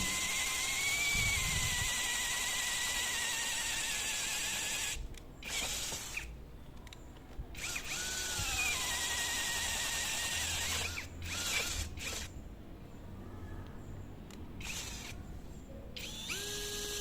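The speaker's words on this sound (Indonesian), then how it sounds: "Yang saya rasakan saat ngebor ini powerful bornya" Whining, buzzing Dagmara 13mm cordless brushless drill boring through material in long bursts with short pauses, fairly close and loud, with no voices.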